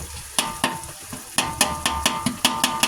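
Butter sizzling in a hot pan while being stirred through chowmein and fried rice, with a steady frying hiss broken by a run of sharp, regular scraping clicks from the stirring utensil.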